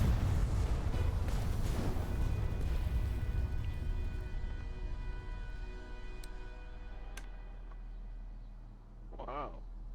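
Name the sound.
big airship cannon firing in Airship: Kingdoms Adrift video game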